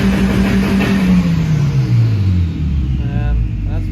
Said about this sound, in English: his Evo making a bunch of noise over there